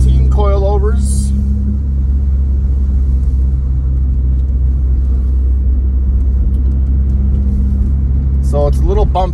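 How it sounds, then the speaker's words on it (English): Steady low road rumble and engine drone from inside a 1994 Honda Prelude on coilovers, riding a rough, bumpy neighborhood road; continuous and fairly loud, with a person talking over it at the start and end. "it's a little bumpy on roads like my neighborhood road here"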